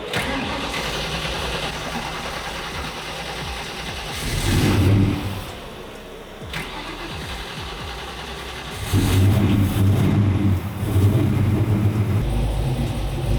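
A 347ci Ford Maverick V8 on a dyno cranks, fires and idles with a rough rumble, then is blipped twice in loud, close revs before settling back, with no voices.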